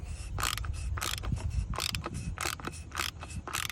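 A ratchet wrench clicks in rapid bursts while loosening the oil filter housing on a Mercedes-Benz R230 SL 500, with about nine sharp ratcheting strokes close to the microphone over a low engine-bay rumble.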